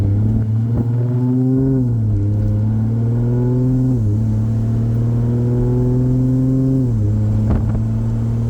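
A 2JZ engine in a Nissan S14 with a new manifold and 8HP70 automatic transmission pulls hard under acceleration, its loud, steady drone rising in pitch through each gear, then dropping at the gear changes.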